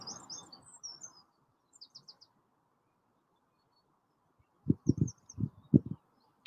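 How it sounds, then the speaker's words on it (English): Morning birds sing outdoors, their high, thin chirps and short trills coming in scattered bursts from a distance, with a few soft low thumps near the end and quiet stretches between calls. "Can you hear the birds?"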